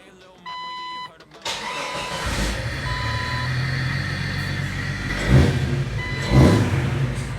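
A warning chime beeps, then a Jeep engine cranks and catches, settling into a loud idle with two quick revs near the end.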